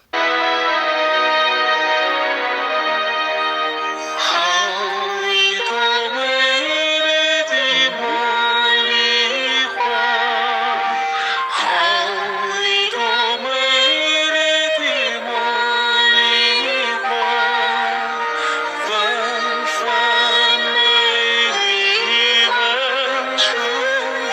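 Two songs layered in sync, one playing over another: loud, continuous sustained vocals and melodic accompaniment throughout, with no speaking voice.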